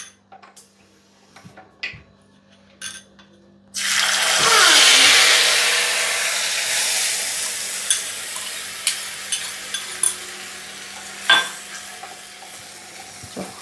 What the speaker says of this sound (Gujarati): હમણાં ચટણી લસણની વઘારી દેમ છું